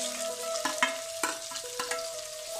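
Onions and tomato sautéing in a pan for pressure cooker chicken biryani, a steady sizzle broken by several sharp stirring scrapes, close and alone with no talk.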